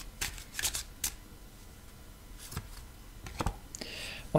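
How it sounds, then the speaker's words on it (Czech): Tarot cards being shuffled during a card reading: a run of crisp papery riffles and flutters in irregular bursts, close and fairly quiet, with no talking. "Já si tady vytáhnu kartu, jestli nám to nějak víc osvětlí."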